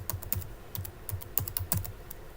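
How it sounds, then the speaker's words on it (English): Fingers type on a laptop keyboard in quick irregular bursts of soft clicking keystrokes, close and faint, with no voices. "Then type photopea.com."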